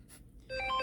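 Incoming-call phone ringtone heard briefly and fairly quiet, a short tonal electronic ring starting after a moment of near silence, with no talk over it.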